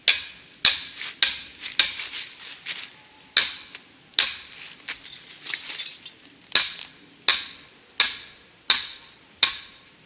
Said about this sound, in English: hammer it down to the first swivel